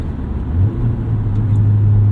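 A 2001 Honda CR-V with a manual gearbox and a 2-liter B-series four-cylinder engine revs briefly, a low steady hum that swells partway through and holds, close by with no voices.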